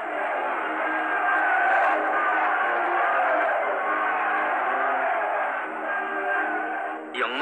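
A large crowd of citizens at Daegu station sends up a loud, sustained roar of cheering and shouting that holds steady for several seconds and then thins out toward the end.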